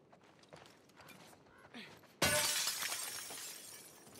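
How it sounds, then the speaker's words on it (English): A glass pane shatters in The Last of Us Part II as a thrown bottle breaks through it: a sudden loud crash after quiet ambience, followed by a long, bright spray of falling shards. "That bottle stayed solid through that glass."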